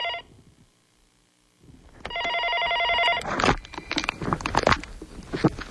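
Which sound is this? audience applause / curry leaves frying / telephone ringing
telephone ringing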